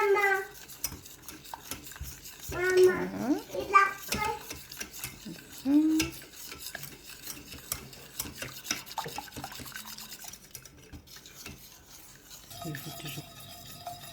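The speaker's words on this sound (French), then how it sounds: "On va mélanger un petit peu avant de mettre sur le feu." A spoon stirring a red fruit dessert cream mixture in a pan, with intermittent scraping and rubbing strokes and light utensil clinks against the pan, fairly quiet with pauses between strokes.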